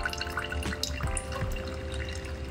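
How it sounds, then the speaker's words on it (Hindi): Whey drains from freshly made chhena for rasmalai, a steady faint trickle and drip of water running close by without any voices. "बस इसका पूरा पानी निकल जाए।"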